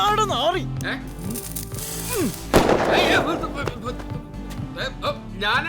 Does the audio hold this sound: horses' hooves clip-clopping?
no